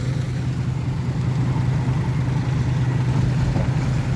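Tractor engine straining while stuck and sunk in mud, a steady low droning labour held at one level throughout with no voices.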